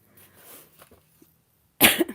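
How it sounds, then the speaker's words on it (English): A single sharp, harsh cough bursts out near the end after a stretch of faint shuffling and quiet background noise. "Keep coughing"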